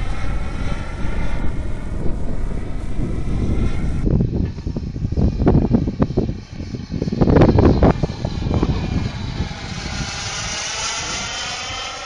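A CMP T-45 model jet's turbine engine spools up on a landing approach with gear down, a loud sustained whine and roar that builds in surges and then steadies, with wind noise around it.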